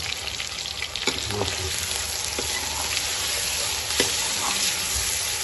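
Dense steady sizzling of mutton frying with onions in a hot pan, close and fairly loud, with occasional clinks and scrapes of stirring.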